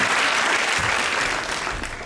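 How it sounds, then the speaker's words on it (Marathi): Loud applause from a lecture audience, a thick wash of many hands clapping together that eases off slightly toward the end. "जोरात टाळ्या वाजवा."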